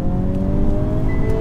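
Hyundai Kona N engine held at steady high revs in manual mode, a loud close droning tone with a slight rise, no voices over it.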